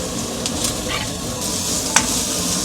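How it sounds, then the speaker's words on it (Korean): Chopped scallions fry in hot oil to make scallion oil, giving a steady bright sizzle with light stirring scrapes and one sharp clink near the end, with no voices. "우선 파기름을 좀 내줄게요."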